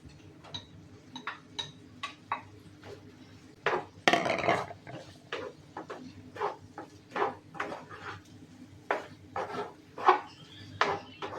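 Fried prawns added to a biryani pan and stirred, a steady series of ladle taps and clinks against the pan, with a louder clatter partway through.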